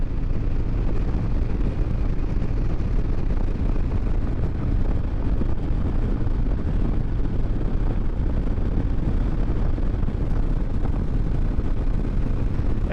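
Wind roars and buffets against a motorcycle helmet on a Harley-Davidson Road King in a crosswind, a continuous low rumble, loud and unbroken, mixed with a faint engine drone.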